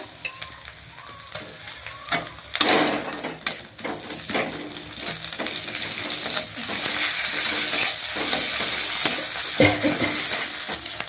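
Ginger-garlic paste hits a hot pan for a Bengali-style rohu fish curry, giving a steady loud sizzle that swells after a few seconds, with scattered clinks and scrapes of stirring and no voices.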